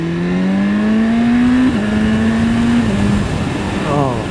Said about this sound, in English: I'm just barely revving it past 6, 7.